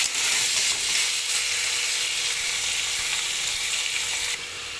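Spices with salt and turmeric fry in a pan, a loud, even hissing sizzle that runs on continuously and drops a little near the end.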